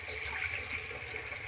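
Water is poured into a cooking pan with softened tomatoes while making upma, a steady, faint splashing rush that runs evenly and alone throughout.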